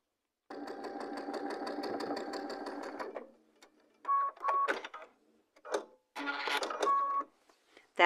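A sewing machine stitches fabric for a quilt block with a fast, even, close-up mechanical whir for about three seconds. Short bursts of stitching follow in stops and starts.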